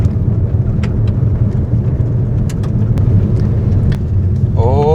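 Steady, loud engine and tyre rumble of a vehicle cruising at about 50-60 km/h on a smooth road through forest, continuous and close with little variation and a faint voice near the end.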